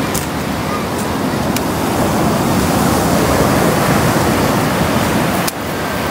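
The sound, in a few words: sea waves at the seaside at sunset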